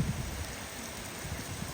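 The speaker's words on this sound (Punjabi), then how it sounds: "ਨਿੱਕੀ ਨਿੱਕੀ ਬੁੰਦਾਬਾਂਦੀ ਹੋ ਰਹੀ ਆ" Soft, steady patter of light rain, a faint continuous hiss with scattered small drops, no voices.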